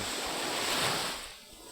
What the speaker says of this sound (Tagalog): So mahinahon ngayon ng alon